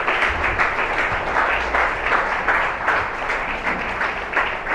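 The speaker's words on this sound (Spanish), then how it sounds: "Da un aplauso al Espíritu Santo de Dios." A church congregation at Iglesia Santo Monte de Sión in Buenaventura claps together in loud, rhythmic bursts, a fairly close and steady pulse of hands running throughout with a faint voice underneath.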